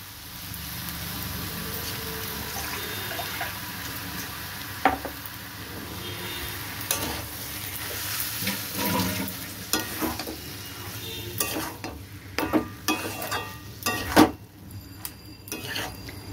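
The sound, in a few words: moong dal added to frying masala and stirred in pan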